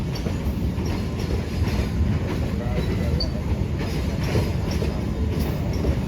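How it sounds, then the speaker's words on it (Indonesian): The Brawijaya passenger train passes close by in Bandung, Indonesia, with a continuous heavy rumble and wheel clatter that holds steady from start to finish. "kereta api Brawijaya berada di kota Bandung"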